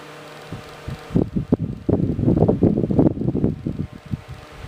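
A Koonie ZD601 portable stand fan runs on its highest speed, 4, with a close, loud, gusty whooshing of air that fluctuates against the microphone.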